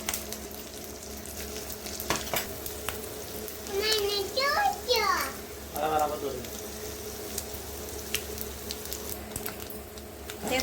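Garlic, curry leaves, chillies and asafoetida frying in hot oil in a pan, a steady close sizzle with stirring scrapes, under intermittent talk and a higher voice in the middle.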